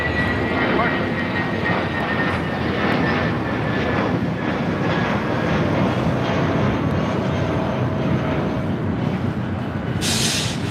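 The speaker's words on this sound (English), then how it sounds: "This is JetBlue Airways Flight 131 taking off to Salt Lake City on an A320 in the New York Jets livery." A JetBlue Airbus A320 jet takes off at LAX, a loud, sustained roar of jet engines that stays strong and steady throughout, heard from nearby with no pause.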